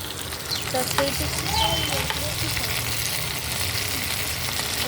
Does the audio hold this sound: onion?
yes